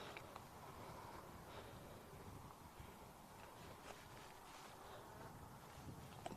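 A bee buzzes around someone standing outdoors in the evening, a faint, steady insect drone sitting low in the mix with light wind and rustle throughout, with no speech.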